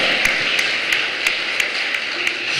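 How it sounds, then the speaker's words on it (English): A church congregation at a live stream claps in a steady rhythm, about three claps a second, over a bright wash of crowd applause. "Come on, clap those hands."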